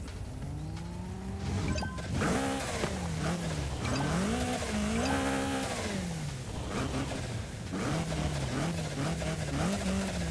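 Rallycross race cars launch from the start in a video game, a Corsa and a Volvo among them. Engines rev and rise and fall through the gears in a loud overlapping roar, with tires squealing underneath.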